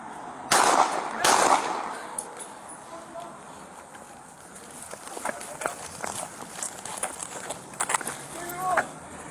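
During a police confrontation with an armed man, two sharp loud gunshots crack out close together near the start. Scuffling, movement and scattered clatter follow, with voices shouting.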